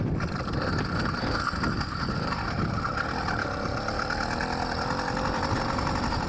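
A 100cc two-stroke motorized bicycle rides over a long, straight North Dakota gravel road, with a continuous loud engine buzz mixed with rattling chain and mechanical clatter plus crunching gravel, steady throughout.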